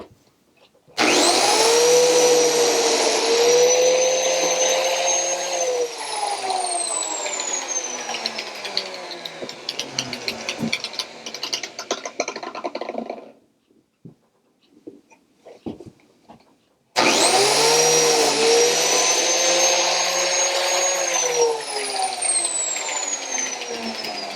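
A biscuit joiner cutting slots for a farmhouse trash cabinet with a vacuum attached makes a loud, high whining roar that runs for about twelve seconds, cuts out briefly, then starts again.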